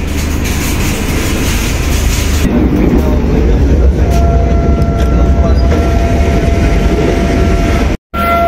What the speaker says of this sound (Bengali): তো জাস্ট সবে মালদা টাউন থেকে ট্রেন ছাড়ছে